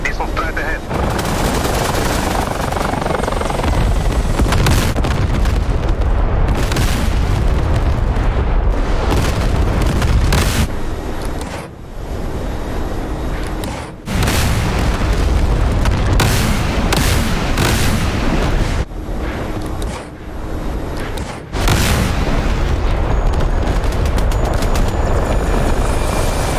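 Missile explosions and helicopter rotor roar in a video game set in the 1986 Soviet Afghan war with Stinger missiles, a dense loud continuous rumble broken by repeated heavy booms and gunfire bursts, with voices talking over it.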